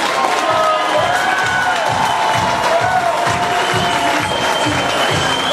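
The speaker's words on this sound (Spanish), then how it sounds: "A ver el aplauso de la gente." Audience at an Italian community centre dinner contest applauds and cheers in a dense, steady wash of clapping and crowd noise, loud throughout with scattered whoops and voices mixed in.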